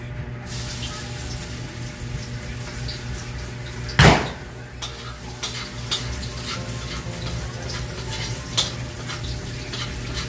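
Food sautés in a hot pan with a steady hiss and crackle throughout, with soft stirring scrapes and one sharp metallic clank partway through.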